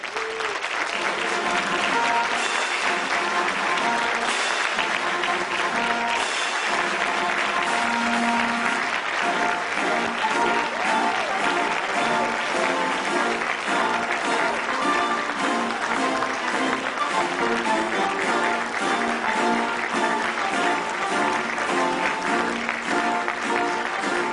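A large audience gives sustained, dense applause and cheering for President Joe Biden at a campus dedication of the Dodd Center for Human Rights, loud and continuous throughout.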